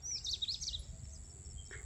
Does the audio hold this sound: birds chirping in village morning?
yes